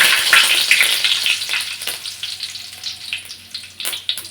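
Mustard seeds, cumin and curry leaves sizzle in hot frying oil, loud and close, with bright crackling pops that are strongest at the start and then settle into sparser spits.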